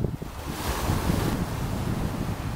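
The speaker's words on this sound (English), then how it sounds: "Just listening to the waves." Ocean waves on a beach, a continuous washing surf roar mixed with heavy wind buffeting the microphone, no voices.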